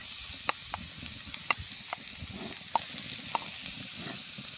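Shredded cabbage and beans sizzle in a hot pan over high flame, a steady frying hiss broken by occasional sharp crackles and spatula scrapes, with no talking.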